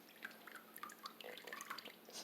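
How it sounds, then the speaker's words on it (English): Water dripping from wet paper pulp held on a papermaking mould while making handmade paper: faint, scattered small drips and patters with no speech. "you hear the water dripping"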